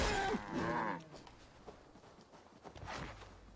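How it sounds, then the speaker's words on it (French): Cattle in the video game Assassin's Creed Valhalla, with a fairly close low moo at the start and fainter rustling and a later grunt-like call. "Les vaches."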